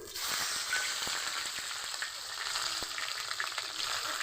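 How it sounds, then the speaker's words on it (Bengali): Grated onion fries in oil in a pan, giving a continuous close sizzle with occasional sharp crackles and pops, steady in level and free of speech. "কিছুটা তেল আমি কমিয়ে নিব দিয়ে দিব গ্রেট করা পেঁয়াজ"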